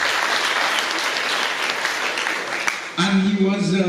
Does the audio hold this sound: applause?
yes